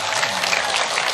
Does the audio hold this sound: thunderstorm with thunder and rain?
no